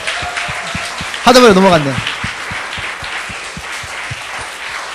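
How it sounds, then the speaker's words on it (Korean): A church congregation claps in a steady, regular rhythm at a New Year's Eve service, the beats evenly spaced and moderately near, while a voice speaks briefly over the clapping. "우리 박수 한번 치십시오."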